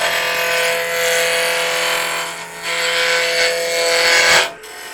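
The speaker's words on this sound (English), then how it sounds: "get the trusty roughing gouge, and we're going to go ahead and get this thing to round" A roughing gouge cuts spalted wood on a lathe while a candlestick blank is brought to round, giving a loud, steady, rasping scrape that dips briefly midway and cuts off just before the end.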